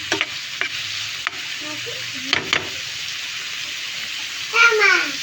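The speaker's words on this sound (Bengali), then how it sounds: "একবারে তেলে আমি ভেজে নিতেছি" Snake gourd frying in oil for a coconut chichinga bhaji, a continuous sizzle with occasional stirring clatters, while a voice and brief speech come in faintly toward the end.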